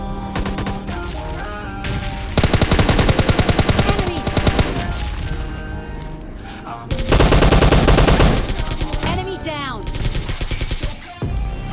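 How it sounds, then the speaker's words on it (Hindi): Loud, rapid automatic gunfire from PUBG Mobile Lite gameplay comes in two long sustained bursts separated by quieter in-game sounds, with no speech over it. "मैं देख रहा हूँ आगे की तरफ और इतनी देर में पीछे से मुझे गोली पड़ती हैं।"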